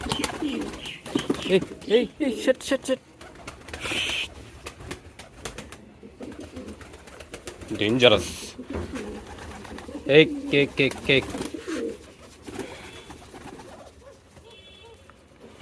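Red Peshawari pigeons coo in a loft, their soft calls coming in bursts and mixed with someone talking nearby and some handling noise.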